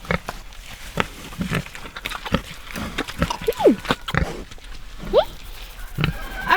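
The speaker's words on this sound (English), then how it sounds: "Here are the pigs." Several big hairy pigs grunting and snorting close by on a farm visit, short irregular bursts with a couple of sharp squeals, while children and adults chatter around them.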